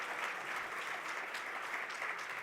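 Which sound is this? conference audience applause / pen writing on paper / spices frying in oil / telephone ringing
conference audience applause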